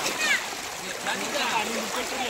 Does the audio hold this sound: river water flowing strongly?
yes